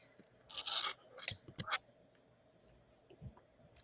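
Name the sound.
jewelry wire cutters snipping off excess wire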